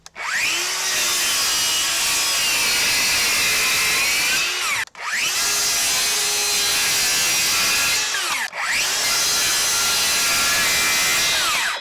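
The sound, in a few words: DeWalt FlexVolt circular saw cutting MDF with 60 volt battery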